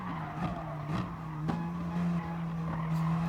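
Gr3 race car lapping the Nordschleife in Gran Turismo Sport, a steady droning engine note with brief tire squeals and skids, loud and close throughout.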